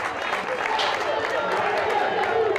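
A football crowd applauding at a Serie D match between Matera and Venosa after a minute of silence, a steady wash of clapping from the stands beneath a voice.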